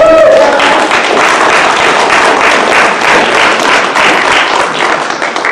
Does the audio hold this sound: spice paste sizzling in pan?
no